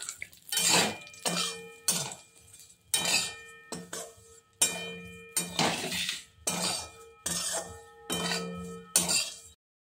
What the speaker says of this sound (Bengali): এবারে আবার নেড়ে নেব